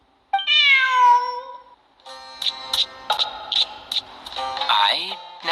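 A cat in Genshin Impact gives one clear, drawn-out meow, followed by a sequence of short bright chimes and tones from the game.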